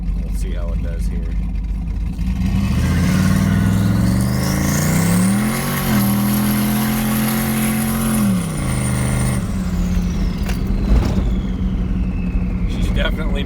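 A turbocharged truck engine fitted with a manual boost controller roars and climbs in pitch as it accelerates hard under boost, with a rising turbo whine, then drops off as the throttle lifts.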